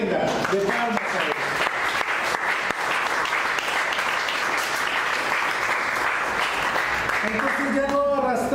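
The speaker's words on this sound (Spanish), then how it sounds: "Denos una ofrenda de palmas a Él." A church congregation claps loudly and continuously during a Spanish-language sermon, a sustained wash of hands that tapers near the end as a voice and music return.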